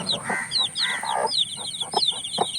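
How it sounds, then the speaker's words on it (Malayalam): Young spotted chicks about two weeks old cheep in quick, high repeated chirps close by on a farm, with lower clucking sounds mixed in. "അപ്പോൾ നമ്മുടെ കോഴിക്കുഞ്ഞ് ഇതാ തൊട്ടപ്പുറത്തുണ്ട്"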